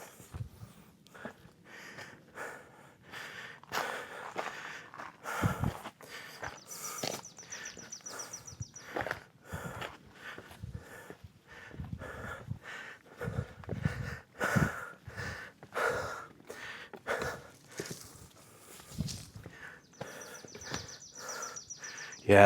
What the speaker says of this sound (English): for all the breathing.